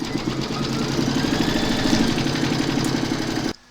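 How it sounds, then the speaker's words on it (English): Embroidery machine stitching a coffee placemat: a steady, rapid mechanical whirring with a fast repetitive needle rhythm, close and consistent, stopping abruptly near the end. "I'm now going to load my hoop into my machine and stitch round number 2."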